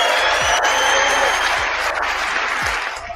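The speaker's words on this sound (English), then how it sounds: "Give him some claps." Audience clapping and making noise at a live show, a dense continuous wash of applause that holds steady throughout, with a few low thumps underneath.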